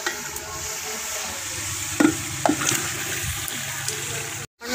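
Meat stirred into fried masala in a pot, with a steady close sizzle under the stirring and a couple of louder scrapes partway through, and a brief drop near the end.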